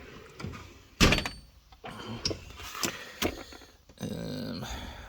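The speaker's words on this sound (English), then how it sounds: "File drawer." A toolbox file drawer slides and clunks open with a sharp bang, followed by several lighter metallic clicks and knocks of handled contents, then a soft sliding rumble, close by.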